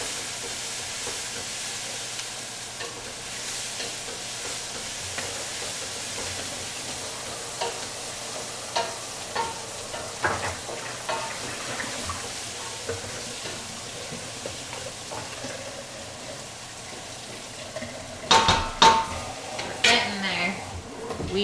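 Food for turkey soup with rice sizzling gently in a pan on a home stove, with soft scraping and clattering from stirring and sharper bursts near the end.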